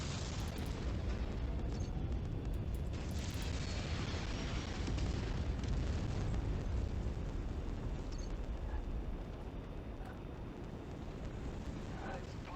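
Artillery shells explode during a mech battle in MechWarrior 5: Mercenaries, a dense, continuous barrage of loud booms and rumbling blasts that stays heavy throughout, easing slightly toward the end.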